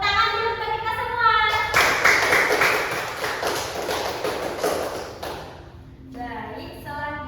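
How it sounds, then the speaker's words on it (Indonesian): Classroom of students clapping their hands together in a lively burst of several seconds, with children's voices and chatter before and after. "tepuk tangan dulu buat kita semua"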